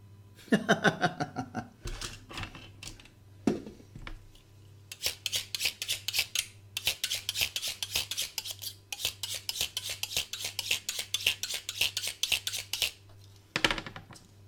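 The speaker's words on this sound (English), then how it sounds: "Okay, let's trim away this excess, shall we, around the border, very carefully" Excess material is trimmed away around the border of a handmade shield, giving bursts of rapid scraping, rasping strokes with short pauses between them.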